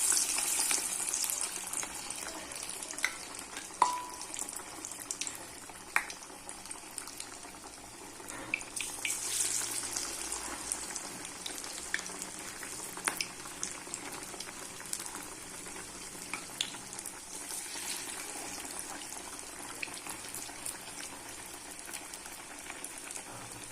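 Village-style keerai vada, a spinach and lentil fritter, frying in hot oil in a kadai, a continuous soft bubbling sizzle with scattered faint pops and clicks throughout, no talking.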